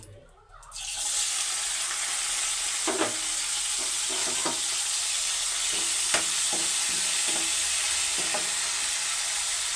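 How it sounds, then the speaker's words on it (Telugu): Small meththalu fish, washed and fried lightly in a pan with turmeric, give a dense, steady sizzle close by, broken by occasional soft clicks and scrapes of a stirring utensil. "దాంట్లోకి ముందుగా కడిగి పెట్టుకున్న మెత్తలు కూడా వేసుకుని అయితే ఫ్రై చేసుకుందాం"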